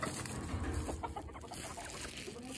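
Chickens cluck close by, several birds making short, overlapping calls over a steady background hum.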